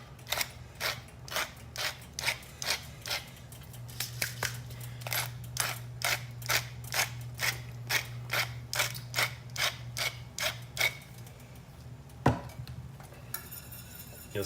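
A pepper mill cranks over a pot of jalapeño cheese grits with a long run of crisp, evenly spaced ratcheting grinds, steady and close, over a low hum from the cooking.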